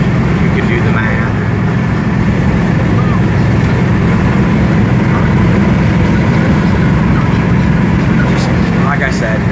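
A 1972 Dodge Dart Swinger cruises down a highway at about 70 mph and 2500 rpm, giving a steady, loud engine and road drone with wind rush throughout.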